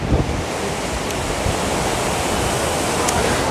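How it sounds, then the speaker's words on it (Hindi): The Daya river near Pipili at Madhipur runs in flood, its fast water giving a constant, loud, broadband roar with some wind buffeting and no voices. "तो देखो कौ भली स्पीड रे कौ भली गति रे पानी ये करुच्ची।"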